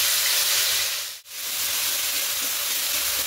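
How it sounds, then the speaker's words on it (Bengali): Chili paste hits hot oil tempered with bay leaf and whole garam masala, giving a loud, steady hiss and sizzle that briefly cuts out and then returns at full strength, with no talking. "তেজপাতা দেব, ফোড়ন থেকে সুন্দর গন্ধ বেরোলে এখানে লঙ্কা পেস্টটা দিয়ে দেবো।"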